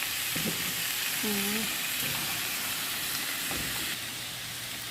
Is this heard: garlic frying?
yes